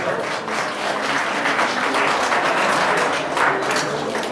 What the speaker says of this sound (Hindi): तो वो तालियां कुछ बजने वाली हैं